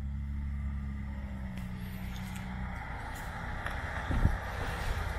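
A 2020 Land Rover Defender creeping downhill off-road on hill descent control, heard as a steady low engine and drivetrain rumble throughout, with a brief louder bump or crunch near the end.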